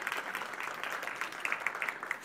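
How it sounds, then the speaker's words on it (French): An audience at a Montreal conference forum applauds steadily, a dense, moderately loud patter of many hands clapping throughout. "Ça mérite une main d'applaudissement, mesdames et messieurs."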